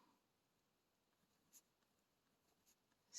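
A pen writes in an Erin Condren monthly planner with faint, sparse scratching strokes in a quiet room, ending with a louder rustle.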